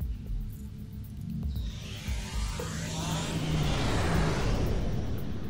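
The quantum slipstream drive of a starship in Star Trek Online builds into a loud, rising rush of roaring, whooshing noise over a deep rumble and holds it steadily to the end.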